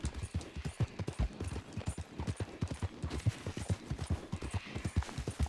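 Horse hooves clip-clop in a steady, brisk rhythm on a dirt trail in the Red Dead Redemption 2 video game, close and moderately loud throughout, with no talking.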